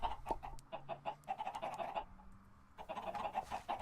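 Chickens in the video game Minecraft cluck in short bursts, several close, clipped calls in an irregular rhythm with a brief lull midway.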